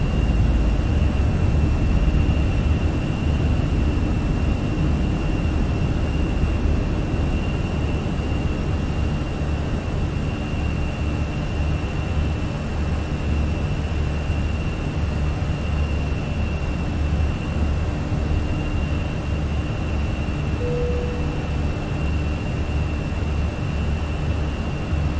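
A simulated airliner climbs after takeoff in Microsoft Flight Simulator, a steady broad engine roar with a faint high whine holding constant throughout, no voices.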